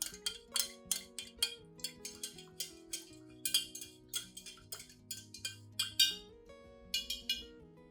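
A spoon clinks repeatedly against a glass container while stirring orchid fertilizer tablets into water until they dissolve, bright irregular taps under soft background tones.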